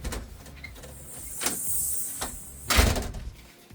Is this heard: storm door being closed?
yes